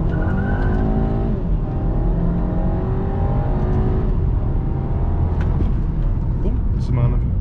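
An Audi A3 2.0 Turbo Sportback with a sporty gearbox accelerates hard in manual mode, a loud engine note climbing steadily in pitch through the rev range, heard close from inside the car with people talking over it.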